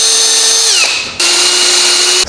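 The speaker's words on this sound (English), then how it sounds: "And then we drill them out to the correct size" A power drill whines loudly while drilling out bushes on a Hustler Badboy mini chopper, its pitch dropping under load, cutting out briefly, then spinning up again at a steady high tone.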